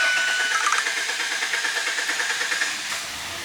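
A Mazda 6 cranking over and firing after a fuel pump replacement, a loud close hissing, rumbling engine sound with a fast pulsing rhythm that settles slightly toward the end.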